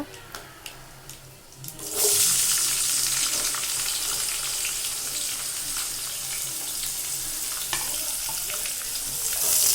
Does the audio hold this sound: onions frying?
yes